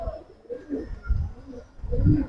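Giribaz pigeons coo in low, soft, repeated phrases close by in a loft, a few rounded calls with no one speaking.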